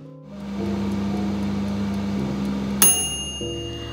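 An Emily air fryer hums steadily with its fan running, then a single sharp electronic beep sounds near the end after preheating, followed by the fan continuing quietly.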